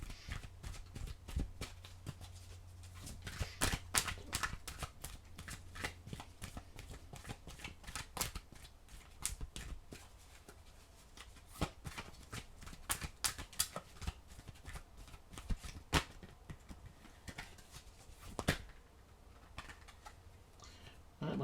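Oracle cards being shuffled and handled close up, a long run of irregular crisp riffles and taps with no talking over them.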